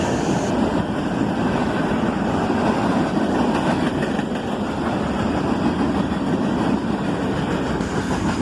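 A CSX freight train rolls past at night, a mixed consist including empty flatcars, with loud continuous low rumble, rhythmic wheel clatter and engine drone that stay near and steady throughout.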